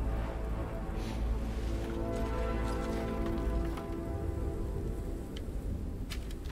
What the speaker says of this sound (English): Ah, it's a rainy place.